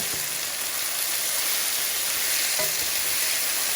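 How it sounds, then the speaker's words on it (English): Onions and celery sauté in a pan for beef soup, a dense, even, loud sizzle throughout with faint stirring knocks. "I'm going to go ahead and add my celery. Okay, celery's in. Saute that till tender."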